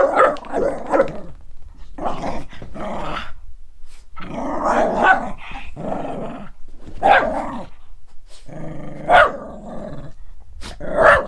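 Two dogs playing together growl and bark in repeated bursts, with rough snarls and short barks close by, separated by brief pauses, with no talking.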